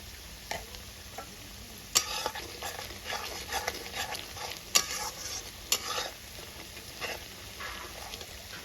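Chopped tomatoes and coriander powder fry in a pan on a home stove, with a steady sizzle broken by sharp scraping and clattering stir strokes at irregular intervals, close and alone with no talking.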